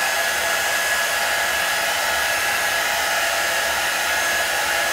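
A heat gun runs continuously while warming up, before being used on painted craft backgrounds, a steady loud rushing blast of air with a thin tonal whine.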